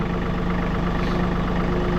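A John Deere tractor engine idles close by in a steady, even diesel rumble that holds unchanged throughout the short stretch.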